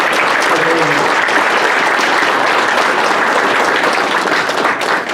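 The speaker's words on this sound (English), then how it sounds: "So, big round of applause." Loud, sustained applause from a large crowd at an awards ceremony, dense steady clapping filling the whole stretch without a break.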